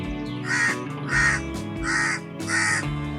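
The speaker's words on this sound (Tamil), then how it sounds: "காக்கா சத்தம்லாம் கேக்குது." Crows cawing outdoors in four loud, evenly spaced bursts of harsh calls, with no voices over them.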